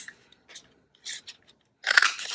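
Scissors cut out paper pieces for a paper bag craft, making a few short crisp snips followed by a louder rustling crunch of paper close by, with no talking.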